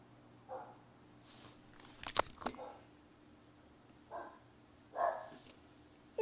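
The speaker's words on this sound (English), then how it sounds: "Who you barking at?" A dog gives a few scattered barks, one sharp and louder burst among softer ones, at moderate distance against quiet background.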